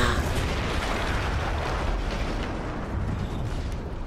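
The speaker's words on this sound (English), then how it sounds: "That explosion was one of the sweetest sights of the war for me." Explosion in the Battlefield 1 video game during an Italian campaign mission, a sustained loud rumbling roar with dense crackling debris that stays steady and near for the whole stretch, no voices.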